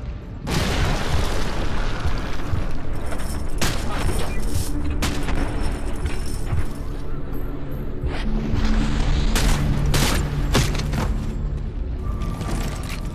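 Naval ships' bombardment in Call of Duty: Modern Warfare 2 during a gulag assault, with heavy booming shell impacts crashing again and again over a constant roar, loud and close throughout.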